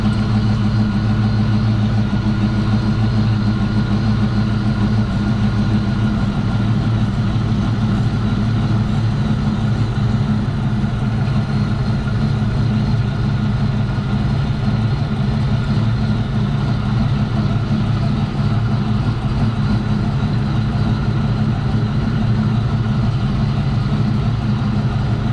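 A car engine idles steadily after a fuel pressure regulator adjustment, a constant low rumble with a mid-range hum, close and loud, unchanging and with no talk for about twenty-five seconds.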